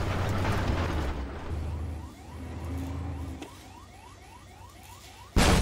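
Tank cannon fire and shell impacts in the Armored Warfare PvE game, a loud continuous rumble of engine and blasts with a sharp explosive burst at the very end.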